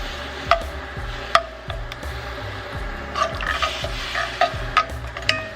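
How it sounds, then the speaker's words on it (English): Cream cheese and a cup of vegetable broth stirred into cooked onions and minced garlic in a pan, a spoon scraping in repeated strokes over a steady background sizzle, with a few sharper clinks against the pan. "Then we're gonna add some cream cheese, cup of veggie broth, and mix this in."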